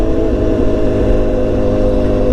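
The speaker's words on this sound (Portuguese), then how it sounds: "como oscila o barulho da nossa moto" A BMW S1000XR motorcycle rides along the street with a loud, steady exhaust roar, a close continuous droning rumble with slight wavering and no speech over it.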